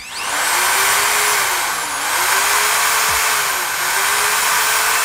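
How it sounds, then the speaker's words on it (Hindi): Electric drill powered by a 4000W off-grid pure sine wave solar inverter, its motor whining loudly and continuously up close, with slight dips and surges in speed throughout. "अब मैं इसके ऊपर चला रहा हूँ ड्रिल।"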